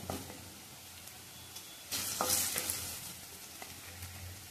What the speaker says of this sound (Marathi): कांदा लसूण फक्त जिऱ्याची फोडणी द्यायची.